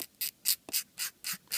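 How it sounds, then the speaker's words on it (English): A metal file rasps across brass parts of a Trumpeter MGS4 Drebin Stryker model kit. Six even, scratchy strokes come close and loud, separated by short pauses. "When you're doing brass parts, use a metal file to get rid of the majority of it."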